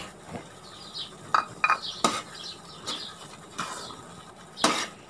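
Suji halwa with nuts and dry fruits being stirred in a pan, giving scattered scraping and clinking of a spoon against metal with a few sharper knocks among soft background noise.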